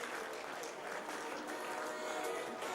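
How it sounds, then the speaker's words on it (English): Soft, distant round of applause at the MDBC Sustainability Awards 2011 dinner, a steady wash of clapping from a roomful of guests with a faint murmur of voices underneath. "Ladies and gentlemen, please give a round of applause to all these kind supporters of beverages and menu items tonight."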